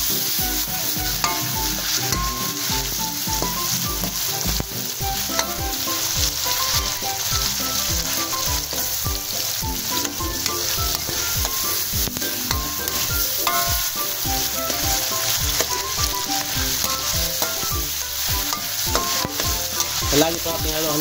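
Tomatoes sizzling and frying in a pan for pinakbet while being stirred, with loud continuous crackle and repeated rhythmic scraping of the utensil against the pan, close up and without speech.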